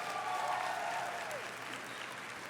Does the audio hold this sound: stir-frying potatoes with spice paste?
no